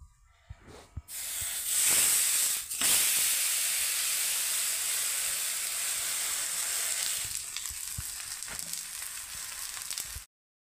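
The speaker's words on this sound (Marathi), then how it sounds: "तव्यावर अलगद असं हे थालीपीठ टाकून घ्यायचं आहे" Cabbage thalipeeth laid onto a hot griddle bursts into loud, close sizzling that holds steady for several seconds, then eases and cuts off, with no talking.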